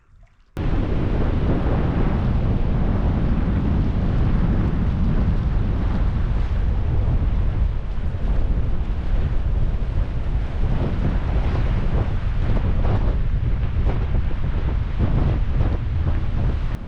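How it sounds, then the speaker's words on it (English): Strong, steady wind of 20 to 25 mph with stronger gusts buffeting the microphone on an open lake during a canoe trip between the French River and Georgian Bay, a loud, continuous roar with faint water noise beneath. "The wind has picked up, blowing consistent 20 to 25 miles per hour with probably 30 to 35 mile per hour gusts."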